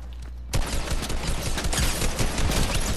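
Gunfire in the Fortnite battle royale video game: after a brief quiet start, a dense, continuous burst of rapid shots and impacts fills the rest of the clip, loud and close.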